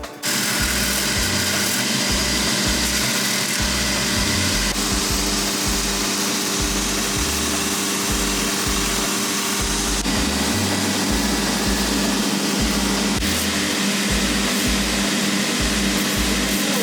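A handheld power tool trims excess sole material around the edge of a custom-made shoe, running as a loud, continuous high-pitched motor whine with rhythmic pulsing as it works around the edge, no voices.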